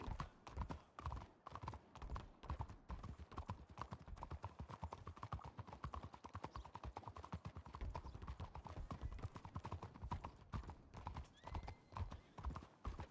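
Horse hooves clip-clop at a steady walking rhythm in the Red Dead Redemption 2 game, faint and regular throughout, with a brief whinny.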